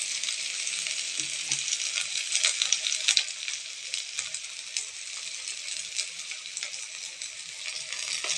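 Onions sautéing with curry leaves in a pan crackle in a bright, busy sizzle, with sharp pops and spatters that swell and ease over several seconds; close and alone, without talk.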